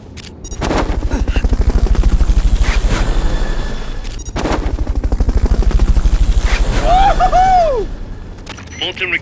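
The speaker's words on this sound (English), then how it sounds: "Fulton recovery helicopter is complete." A helicopter in the video game Metal Gear Solid: Peace Walker, a loud, close rotor thudding in a fast steady rhythm that swells and fades across the clip, with game voices and effects mixed in near the end.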